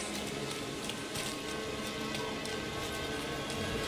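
Rain of Arrows skill effect from the Rogue class in Diablo IV, a dense, steady hiss like heavy rain pattering on a surface, loud and continuous with no voices.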